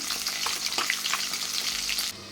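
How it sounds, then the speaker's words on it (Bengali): Fish fries in a pan with a steady, close sizzle and bubbling spatter that continues without a break. "এখানে মাছ ভাজা বসিয়ে দিয়েছি"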